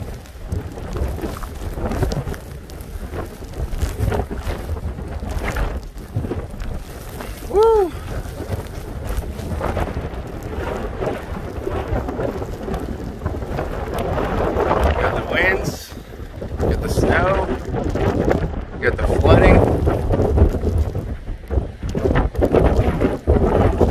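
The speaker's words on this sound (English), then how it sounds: "big gust going on now." Strong coastal nor'easter wind gusts roar and buffet the microphone continuously at Oak Orchard, Delaware, surging louder toward the end, with a brief voice partway through.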